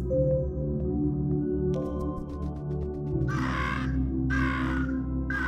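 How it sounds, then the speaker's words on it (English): Crow people in the puzzle game Monument Valley give harsh, loud caws, two drawn-out calls near the end over a low droning musical backdrop with scattered chimes. "That encounters the bothersome crow people."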